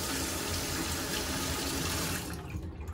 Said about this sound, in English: So I'm gonna wanna run water under the blade.